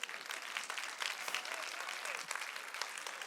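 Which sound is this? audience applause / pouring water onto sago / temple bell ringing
audience applause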